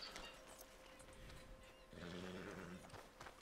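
A horse in the video game Red Dead Redemption 2 snorts and whinnies quietly, with a few hoof steps, the sounds low in level and close, with no voice over them.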